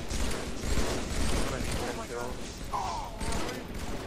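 Gunfire from Halo 3 multiplayer, a dense run of shots and mechanical weapon clatter sounding steadily over a busy game soundscape, with a player's voice talking over it.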